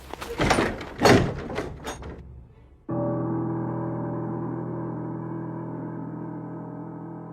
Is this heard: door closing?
yes